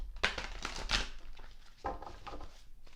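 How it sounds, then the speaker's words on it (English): Thick tarot cards being shuffled close up, a series of quick papery riffles and slaps in uneven bursts, fairly quiet with no talking. "shuffle these cards. They're a little thick, so kind of hard to shuffle"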